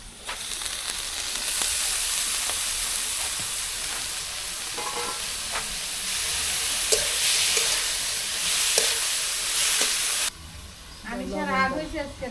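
Cleaned, washed dried shrimp and garlic cloves fry in a pan with a loud, steady sizzling hiss and occasional stirring knocks. The sizzle cuts off sharply near the end, and a voice follows briefly.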